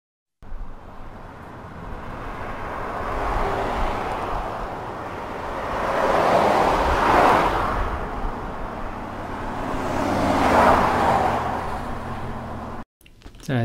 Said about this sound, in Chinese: 高速公路，